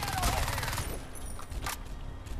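Rapid bursts of submachine gun fire in Crysis 2, loud and continuous at first, then scattered shots and booms trailing off.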